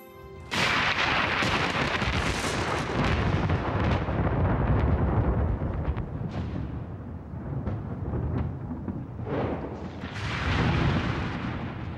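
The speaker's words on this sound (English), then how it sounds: "During thunderstorms, electric charges build up, creating lightning bolts that reach tens of thousands of degrees." Loud thunder from a thunderstorm rumbles close and heavy, with a sudden crack at the start and further rolling peals swelling and fading over several seconds.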